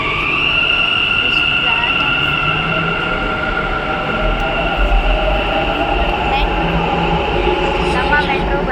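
Metro station ambience with a train running through, a steady loud rumble and sustained tonal whine across the whole stretch, with people talking under it.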